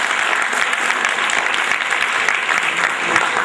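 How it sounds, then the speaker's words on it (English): Steady applause from the audience at a national HR summit hall, dense continuous clapping throughout at a constant, fairly loud level. "Clap for the wonderful audience"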